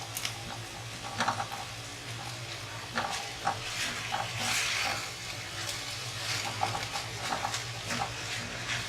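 Chicken keema dry-roasts in a pan with no ghee or oil, giving a soft crackling sizzle broken by repeated scraping and stirring strokes, close and moderately loud.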